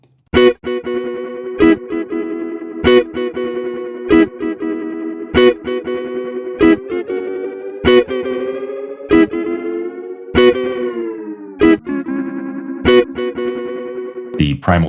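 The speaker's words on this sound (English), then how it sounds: "The Primal Tap plugin is an emulation of the primetime delay, which is a classic digital delay" A musical part runs through the SoundToys Primal Tap digital delay plugin on its Spaced Station preset, giving sustained, heavily processed tones with rhythmic repeating attacks, loud and without talk.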